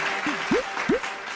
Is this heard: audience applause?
yes